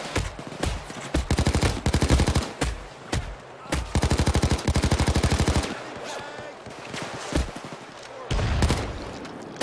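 Video game Payday 2 gunfire rattles in loud automatic bursts, the rapid regular shots broken by short gaps, with single heavier blasts between volleys and a voice speaking at times.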